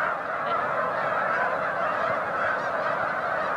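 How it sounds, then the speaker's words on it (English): A large flock of tundra swans in Quebec calls loudly and continuously, a dense overlapping chorus of honking whoops filling the air with no talk. "They're tundra swans"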